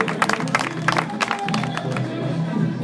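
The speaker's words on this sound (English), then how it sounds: "Very hard clap for him." Audience applause at an English language club gathering in Sudan: a modest crowd clapping unevenly for a few seconds, with scattered sharp claps and faint voices mixed in.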